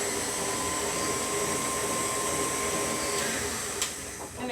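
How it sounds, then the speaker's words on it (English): An electric stand mixer beats icing at medium speed, giving a steady, even motor whir with a broad hiss that runs unbroken for the whole stretch. "So I'll pop this on my mixer, and I'm going to give it about 4 or 5 minutes on a medium speed."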